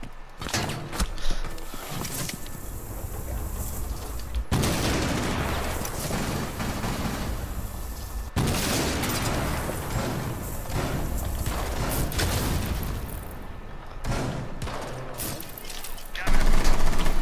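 Rapid gunfire and bursts of shooting in Rainbow Six Siege, played on a Nintendo Switch, fill a busy in-game firefight with dense, overlapping shots and thuds throughout, briefly cutting out twice before resuming loud.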